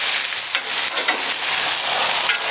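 Beer brats with peppers and onions sizzle on a grill, making a loud, steady hiss with a few soft crackles, heard up close with no talking.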